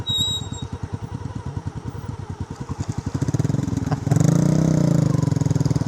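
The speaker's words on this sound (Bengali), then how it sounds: "মোটর সাইকেল ঝিরি পার হচ্ছে" A motorcycle crosses a shallow forest stream on the way to an indigenous village, its engine putting in a steady pulsing chug that builds louder and rougher toward the end, with no talk over it.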